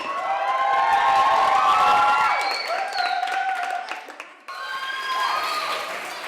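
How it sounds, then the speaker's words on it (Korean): Participants applaud and cheer for children from an orphanage, a loud crowd of clapping, shouts and high excited voices swelling together, dipping briefly near the end, then rising again. "아이들에게 참가자들은 박수와 환호를 보낸다"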